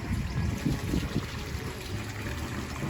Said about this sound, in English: I hear the water is flowing like it should